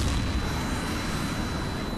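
Missile impact explosion in the H.A.W.X flight combat game, heard as a sustained loud, broadband rumbling blast filling the full two seconds, with no speech over it.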